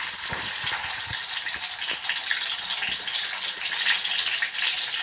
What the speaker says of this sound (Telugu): ఇప్పుడు ఆయిల్ హీట్ అయింది, ఆవాలు వేసుకున్నాం. ఎర్రగడ్డలు వేసుకున్నాం.